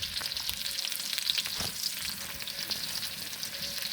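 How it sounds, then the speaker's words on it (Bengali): Onion and chilli fry in oil in a pan over a clay stove, giving a steady, close bubbling sizzle with a few scraping stirs throughout. "মাটির চুলায় আমার আম্মু রান্না করতেছে। তেল, পেঁয়াজ আর মরিচ দিয়ে দিয়েছে।"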